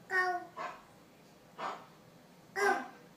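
A voice imitates a dog's bark with four short, breathy yelping bursts spaced unevenly. They are close and moderately loud, with quiet pauses between them.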